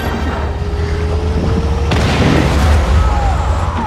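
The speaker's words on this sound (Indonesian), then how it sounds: "meledak lagi" A loud explosion in Just Cause 3 bursts out midway, a heavy boom with crackling debris rumbling on beneath engine noise and continuous game sound.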